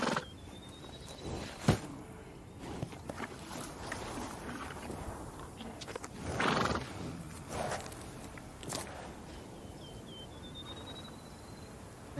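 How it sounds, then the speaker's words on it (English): A horse in the video game Witcher 3 neighs and clops its hooves amid game ambience, with faint wind and water sounds and several sharp bursts spread across the scene. "Nice horse."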